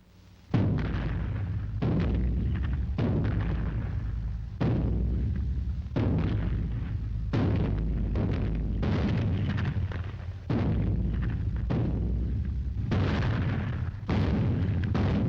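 Cannon fire in a salute rings out as a long series of heavy booms, roughly one every one to two seconds, each loud blast rolling into the next with no break.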